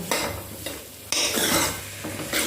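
Potatoes and spices being stirred in a hot pan, with a steady scraping and sizzling that comes in several strokes, close and fairly loud, with no talking.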